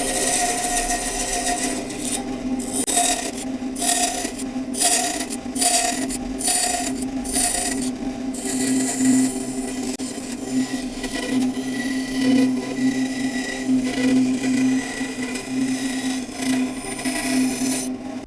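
A woodworking bandsaw making a series of relief cuts into wood along a curve, with a steady motor hum under repeated rasping bursts of blade cutting, then a longer continuous cut.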